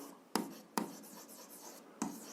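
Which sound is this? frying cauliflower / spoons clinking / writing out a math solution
writing out a math solution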